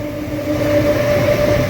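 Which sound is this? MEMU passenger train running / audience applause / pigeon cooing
MEMU passenger train running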